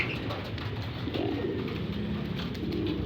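Pigeons coo continuously and close by, with layered low calls and a soft background murmur, and no talking.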